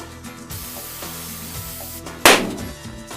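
A can of Termin-8R protective coating gives one close, loud hissing spray burst that cuts in sharply and fades over about a second, after a quieter stretch of steady background noise.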